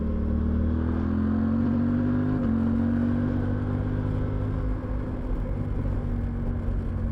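Riding a Suzuki V-Strom 800 DE motorcycle brings a loud, steady rush of wind blended with a constant low engine drone, unbroken throughout with no voices.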